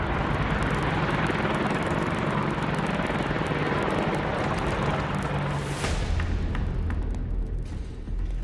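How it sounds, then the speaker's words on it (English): A pair of Apache military helicopters lift off at Leh airfield with a loud, dense rotor and engine roar. The roar thins slightly near the end. "On the ground, a pair of formidably armed Apache helicopters lifts off."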